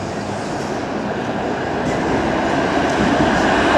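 Toronto 505 Dundas streetcar going by eastbound, a steady, fairly loud rumble of rails and wheels that builds gently and holds for the whole few seconds with no talking.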